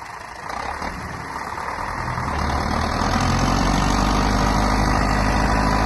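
A heavy YuMZ tractor engine runs steadily and close, its low rumble growing louder and fuller over a few seconds with no voices.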